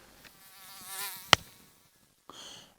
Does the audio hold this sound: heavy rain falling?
no